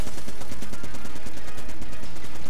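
The Gatling Gull boss in Enter the Gungeon fires a dense, continuous stream of rapid gunshots, loud and steady throughout, with game music and effects mixed underneath.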